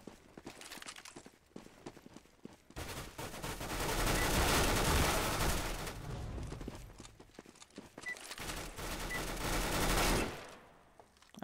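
Gunfire in Counter-Strike: Global Offensive, rapid bursts of shots packed together into a loud dense stretch in the middle, with quieter, sparser shots before and after.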